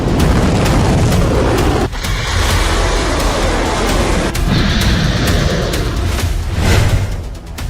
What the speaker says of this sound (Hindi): इजराइल में ईरान की जुल्फिकार मिसाइलों के धमाके